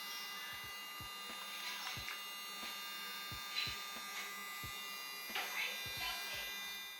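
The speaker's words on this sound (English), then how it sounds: "I thought I'd show you how loud a nail grinder is." An electric dog nail grinder runs faintly with a thin, steady buzzing whine, broken by soft taps and brief scraping as it works on a dog's nails.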